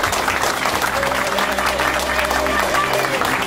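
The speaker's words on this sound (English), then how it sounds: "So give yourselves a round of applause." An audience at a fundraiser for a documentary-style film applauds loudly and steadily for several seconds, with crowd noise and a low sustained musical drone underneath.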